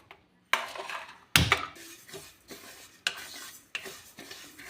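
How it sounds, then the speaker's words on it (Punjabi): Sesame seeds are stirred and roasted in a hot kadhai. A utensil scrapes against the pan in about five distinct close strokes, with soft rustling and quiet gaps between them. "ਆਪਾਂ ਜੀ ਲਗਾਤਾਰ ਹਿਲਾਉਂਦੇ ਹੋਏ ਇਹਨਾਂ ਨੂੰ ਜੀ ਰੋਸਟ ਕਰ ਲਾਂਗੇ"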